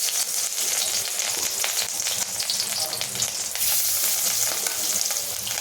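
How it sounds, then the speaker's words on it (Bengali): Pieces of rohu fish frying in hot oil, a steady close sizzle with crackling spatters running continuously throughout, no voices. "আমি এখন অল্প অল্প বাছবো, অল্প মাছটা ফ্রাই করব।"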